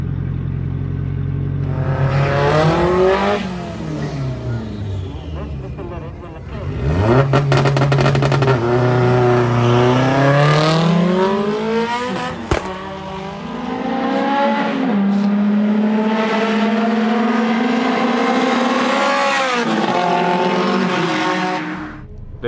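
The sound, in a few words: turbocharged BMW E30 race car drag racing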